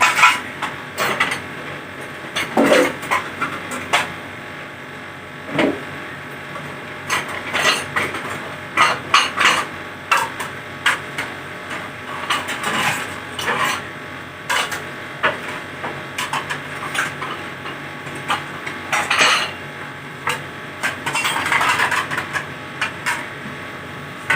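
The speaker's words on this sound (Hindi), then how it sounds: "बर्तन भी काफ़ी गंदे थे, काफ़ी मेहनत लगी धोने में।" Dirty dishes, pots and pans being washed in a home kitchen, a long run of irregular clinks, clatters and scrapes of metal and crockery with close, busy handling and no speech.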